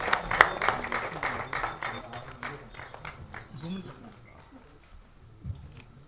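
A modest audience at a directors' club screening event claps for a sound designer, scattered rhythmic hand claps that fade within a few seconds, followed by quiet murmuring.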